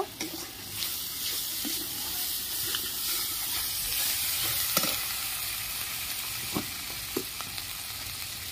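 Coriander and cumin powder, with chili powder, stirred in a hot pan while cooking a prawn malai curry give off a steady sizzle with occasional soft scrapes of the spoon.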